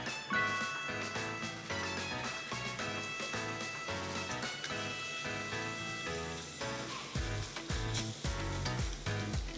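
Shimeji mushrooms sizzle in garlic-scented olive oil for an aglio e olio, a steady frying crackle heard close up beneath a rhythmic background of music.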